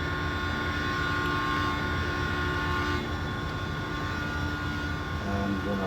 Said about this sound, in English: Oops, let's move away from the train. It is noisy.